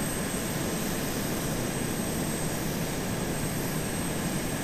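Jet plane in ARMA 2 on a slow landing approach to a runway, a steady, loud broadband engine roar that holds constant throughout with no talk.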